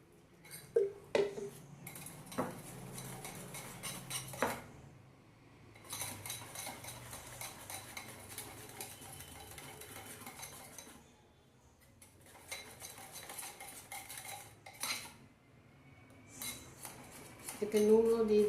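Spoon scraping and clinking in a bowl while pitha batter is mixed, several bursts of rhythmic stirring clatter separated by brief quiet gaps, fairly close and soft.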